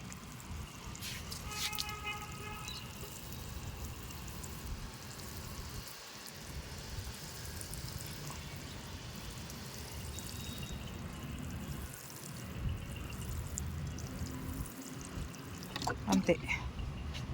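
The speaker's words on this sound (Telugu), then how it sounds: "ఇప్పుడు కొన్ని వాటర్ పోసుకుందామండి" Water pours steadily onto freshly seeded soil in a rooftop garden, a soft, continuous trickle, quiet and close, with a voice talking faintly in the background.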